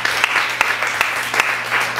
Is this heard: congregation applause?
yes